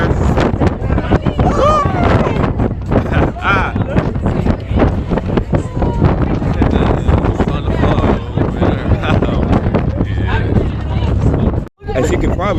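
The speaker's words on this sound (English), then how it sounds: "As you can probably see, it's really windy up here." Strong gusts buffet the microphone outdoors at a high, exposed spot, giving constant loud rumbling and flapping noise with people talking through it.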